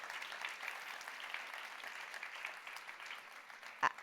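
An audience applauds at a World Food Day event, a moderate, steady patter of clapping that lasts the whole stretch, with one sharp louder knock near the end.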